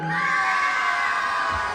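A crowd at the Queen of 123 2025 beauty pageant cheers and shouts in a steady, loud roar of mixed voices with high-pitched yells. It is continuous throughout and has no clear talking over it.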